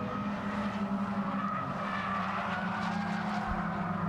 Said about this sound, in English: Through Copse Corner, you can just hear the squeal of the tyres.